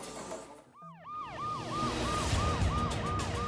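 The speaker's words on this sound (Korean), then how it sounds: "앰뷸런스 한 대가 병원을 향해 달리고 있었다." Ambulance siren wailing in a steady repeating rise-and-fall pattern as it speeds toward a hospital, loud and close over road noise, with no talk.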